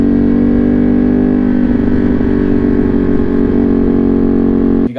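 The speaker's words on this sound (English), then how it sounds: "I have a Ducati Panigale V2 with a full titanium Van Diemen exhaust. The thing is absolutely absurd, and it's loud" Ducati Panigale V2 motorcycle with a full titanium Van Diemen exhaust, a loud, steady droning engine note holding near constant revs, close and unbroken, cutting off abruptly at the end with no talking.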